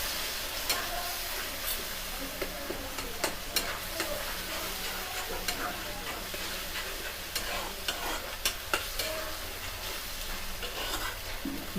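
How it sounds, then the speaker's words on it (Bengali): Spice masala with Kashmiri chili fries in a pan for a fish curry, a continuous close sizzle with frequent quick scrapes and taps of a stirring spoon throughout, no voices. "দিয়ে ভালো করে আমরা মশলাটা ঠিক 2 মিনিটের মতন আমরা কষিয়ে নেব।"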